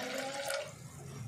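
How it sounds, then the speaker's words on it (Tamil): Water splashes and pours into a pressure cooker holding soaked white peas, a short bright gush that settles into quieter trickling. "தேவையான அளவுக்கு தண்ணி சேர்த்திட்டு"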